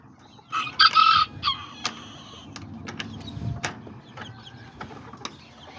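A little rooster and a little hen kept in a cage give a few loud, close clucking calls in quick succession, then settle into quieter scattered clucks and rustling.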